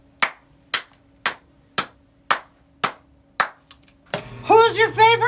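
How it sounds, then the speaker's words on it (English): A single pair of hands claps seven times in a steady, evenly spaced rhythm, crisp and close. A few faint taps follow, then a voice starts talking. "Say, you gotta clap your hands and others."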